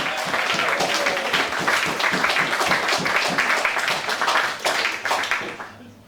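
A comedy club crowd applauds to welcome comedian Lewis Howard, a steady burst of clapping with some cheering that holds for several seconds and then fades out.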